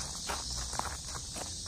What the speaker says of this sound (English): those cicadas sure are singing